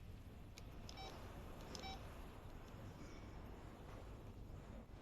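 A telephone number, a Guangdong number, being dialed, heard as a few faint, brief keypad beeps early on within a steady, noisy background hiss.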